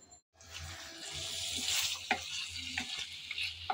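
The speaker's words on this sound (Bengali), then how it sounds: "আমি আবারও কিছুক্ষণ পর এসে একটু নেড়েচেড়ে ভালোভাবে মিশিয়ে নিচ্ছি" Food sizzles steadily in a frying pan while a utensil stirs and scrapes through it, giving occasional sharp clicks against the pan; close and continuous, with no talking.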